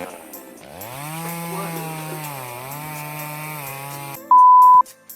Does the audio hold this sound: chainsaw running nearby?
yes